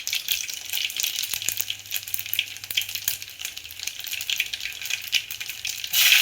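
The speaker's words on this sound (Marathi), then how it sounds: "तेल आपलं छान कडकडीत गरम झालंय। आता मी ह्याच्यामध्ये पहिले लसूण घालून घेते।" Garlic, mustard seeds and cumin sizzling in very hot oil for a Maharashtrian dhaba-style buttermilk kadhi, a continuous bright crackling hiss with scattered pops, close and alone.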